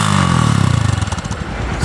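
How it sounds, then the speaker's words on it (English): A Honda XR150L motorcycle on its stock exhaust runs close by, a loud, steady engine rumble with pulsing firing beats that ease off and soften toward the end. "So let's start with a sound test of the stock exhaust."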